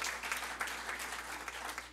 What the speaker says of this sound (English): Our board deserves a round of applause for that.